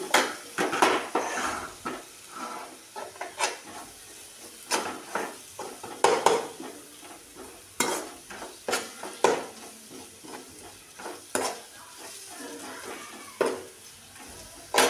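Spinach sautés in a pan with red chili powder and black masala for garlic spinach. A spoon scrapes and clanks against the metal in irregular strokes over a soft, continuous sizzle, and no one speaks.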